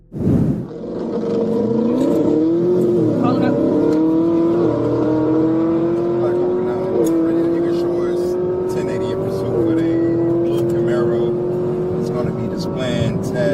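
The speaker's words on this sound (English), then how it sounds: "the Camaro's supercharged V8 roars to life, and the driver takes off at dangerously high speed" A Chevrolet Camaro's 650-horsepower supercharged V8 engine roars and revs repeatedly, climbing in pitch with each gear pull, loud and close, with a whining supercharged edge throughout.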